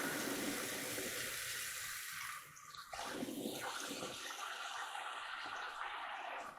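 Running water from a tap rinses out the dirty canister of a suction machine in a sink, a steady broadband rush that dips briefly midway before resuming close and continuous.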